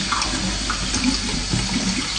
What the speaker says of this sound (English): And then we have to drain this, simple as that.